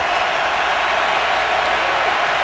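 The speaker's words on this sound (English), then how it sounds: "Crowd urging on the Jags to keep the Falcons at bay here." A stadium crowd roars steadily at a Falcons at Jaguars NFL game, a dense continuous wash of cheering and noise with no breaks.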